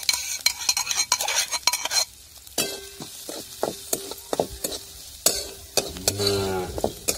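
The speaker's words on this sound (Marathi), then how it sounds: "आपल्याला ही मिरची ना एकदम अशी अगोदर चांगली परतून घ्यायची" Green chili being stir-fried in oil in a kadhai for a bitter gourd dish, rapid metallic scraping and tapping of a spatula over a soft sizzle, close and loud, with no voices.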